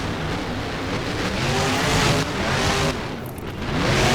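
Engines of two monster trucks roar together in a BeamNG video game race at a fairgrounds track, a loud, continuous mechanical drone that rises and shifts pitch as they charge toward the center ramps.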